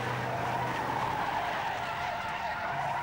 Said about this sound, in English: whip their vehicles around, kicking up debris